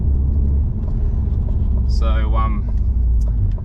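A 2020 Ford Mustang with the 2.3 EcoBoost engine drones steadily, a low, constant engine and exhaust rumble underneath a brief spoken word.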